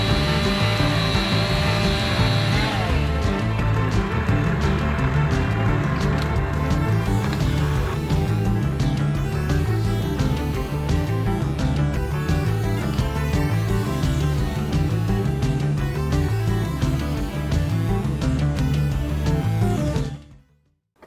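A chainsaw bucks a felled tree into sections next to a Case 580K backhoe. The saw's engine drones loud and steady for about twenty seconds, its pitch wavering as it bites through the wood, then cuts off abruptly.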